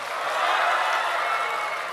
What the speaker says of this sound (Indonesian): Mana sebelah sana tepuk tangannya coba.